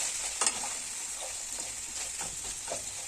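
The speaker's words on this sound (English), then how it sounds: "We're just going to stir." Vegetables in oyster sauce stirred in a frying pan, a continuous sizzle with a few soft scraping strokes of the utensil against the pan, close and steady with no talk.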